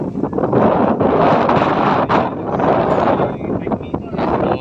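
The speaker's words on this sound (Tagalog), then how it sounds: "Lumamig nga, lumakas naman ang hangin." Strong wind gusting across a steep roof under installation, a continuous loud broadband roar with surging gusts throughout and no clear talk.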